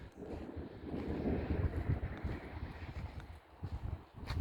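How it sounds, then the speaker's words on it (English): Strong wind gusts buffet the microphone outdoors in Silver Lake, central Oregon, as a thunderstorm approaches, a continuous loud rumbling roar that swells and dips with each gust. "It's so windy out."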